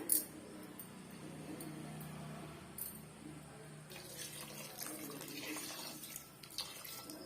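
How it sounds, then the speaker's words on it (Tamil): Water pours quietly with a soft splashing into a pressure cooker of chicken gravy, running for several seconds with faint clinks near the start. "நான் இன்னும் கொஞ்சமே நான் தண்ணி வந்து சேர்த்துக்கிறேன்"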